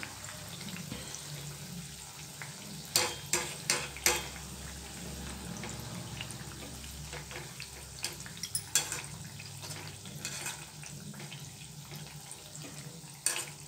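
Bread slices deep-fry in hot oil for bread halwa, a low steady bubbling sizzle with scattered sharp clatters and scrapes from a utensil, close and fairly quiet, with no talking.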